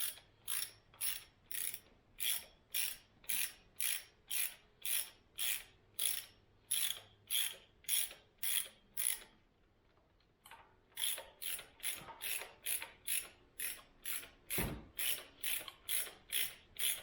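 A ratchet wrench loosens a 12 mm intake manifold bolt on a 2000 Acura 3.2TL, clicking in a steady, even rhythm that pauses briefly before the rapid ratcheting resumes.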